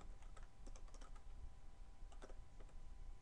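Typing on a computer keyboard, a quiet run of light, irregular key clicks with short pauses, heard alone without any voice.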